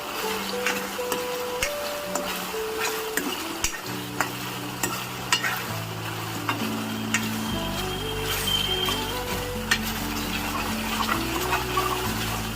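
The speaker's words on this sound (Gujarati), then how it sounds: "આ પનીરને ગ્રેવી સાથે મિક્સ કરી દઈશું" A spoon stirs fried paneer into a bubbling gravy in a pan. A steady sizzle runs underneath with faint scraping and clinks, and music plays over it.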